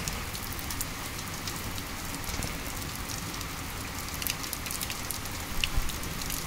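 Steady rain falling outside during a shower, a constant dense hiss of drops hitting surfaces at close range, with no talk over it.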